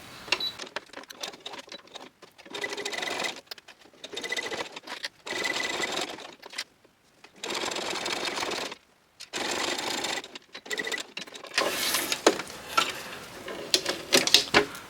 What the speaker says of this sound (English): Okay, I'm going to sew this.